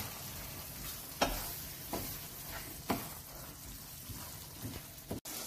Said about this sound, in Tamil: ஸோ இவ்வளோத்தையும் நாங்கள் நல்லபடியாக மிக்ஸ் பண்ண போகிறோம்.